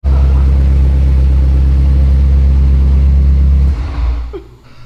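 A BMW M5 race car engine runs at a loud, steady idle with a deep droning rumble for about four seconds, then cuts off and drops away to quieter background noise.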